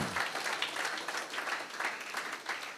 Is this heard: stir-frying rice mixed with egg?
no